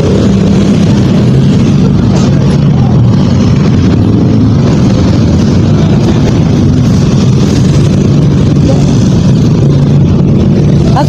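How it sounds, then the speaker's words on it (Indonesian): Loud, constant road traffic at a busy roadside, a dense roar of passing cars and motorbikes with no pauses, close and dominating throughout. "Terlalu berisik suara kendaraan."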